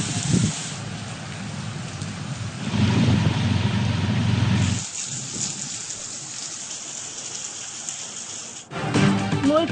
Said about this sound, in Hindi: काड़ा में मूसलाधार बारिश ने जल थल एक कर दिया